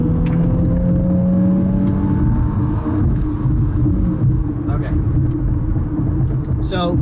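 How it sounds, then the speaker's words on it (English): A 2018 Infiniti Q50 with a 300-horsepower twin-turbo V6 accelerating hard in sport mode, heard from inside the car as a loud, steady engine rumble with a rising tone, and a voice speaking briefly near the end. "So let me start out by doing a little speed test here and show you what this car can do."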